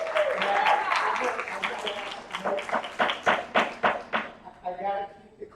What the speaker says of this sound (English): I gotta keep the clapping down.